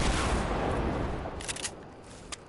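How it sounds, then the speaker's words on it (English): A rocket is fired in a video game, its launch giving a broad rushing roar that fades gradually, with a few sharp cracks cutting through near the end. "gonna shoot my rocket"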